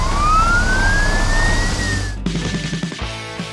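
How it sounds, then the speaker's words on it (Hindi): A siren wails with a rising tone that then breaks off, over heavy traffic rumble, followed by a few scattered thumps and knocks, fairly loud, with emergency vehicles including a police car, an ambulance and a tow truck moving together. "सायरन की आवाज हवा में गूंज रही है"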